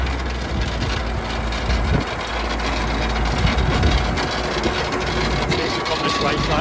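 An engine is held at steady high revs on a machine being driven while draining work goes on, giving a loud continuous droning rumble with faint voices underneath.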